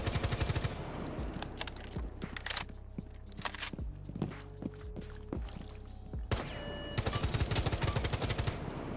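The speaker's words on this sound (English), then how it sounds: "The gun even sounds different." Rapid automatic gunfire in Rainbow Six Siege, loud and close, comes in sustained bursts with short gaps, plus a few footstep-like thuds in between.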